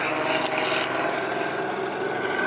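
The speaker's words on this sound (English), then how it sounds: "There's a helicopter above me. You guys see that?" A helicopter flying overhead, heard as a steady, loud, broadband rotor and engine drone throughout with no pauses.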